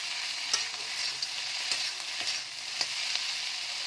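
Fish pieces in garlic pepper sauce fry in a pan with a strong, steady sizzle, and a utensil scrapes and taps as the pieces are stirred, producing a few sharper accents.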